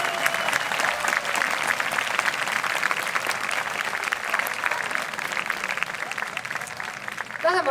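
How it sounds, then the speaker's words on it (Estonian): An outdoor park-concert audience in Tartu gives sustained applause for a band member, many hands clapping steadily at moderate level with faint crowd voices mixed in. "palun tehke suur aplaus põhimõtteliselt Tartu mees Siim Mäesalu"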